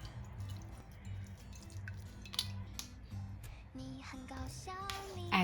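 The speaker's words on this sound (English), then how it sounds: "Wash with water, this stops them from sticking when frying." Chopped garlic rinsed with water in a kitchen, soft drips and splashes with some squishy handling sounds, close and quiet, with a few brief tonal clinks near the end.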